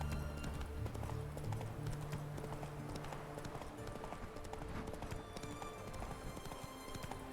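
Horse hooves clip-clopping steadily and close in The Witcher 3, a continuous rhythmic trot over a busy game soundscape, with no talk.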